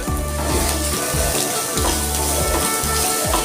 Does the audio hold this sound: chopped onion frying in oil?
yes